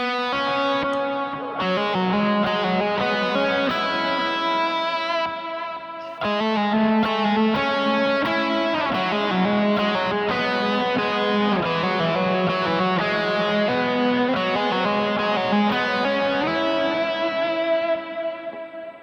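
Lead worship guitar with effects, playing chord tones approached by notes from below, sustained distorted notes ringing with chorus and reverb in a continuous melodic line, one brief pause partway through.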